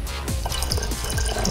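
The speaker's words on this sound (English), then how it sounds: "watch this pour, guys, watch this pour" Pineapple juice pours into an empty Hennessy bottle, a steady liquid stream with gurgling and dripping that carries on for about a second and a half, close and fairly loud.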